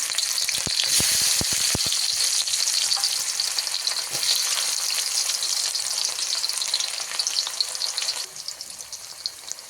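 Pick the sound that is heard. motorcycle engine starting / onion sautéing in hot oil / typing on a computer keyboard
onion sautéing in hot oil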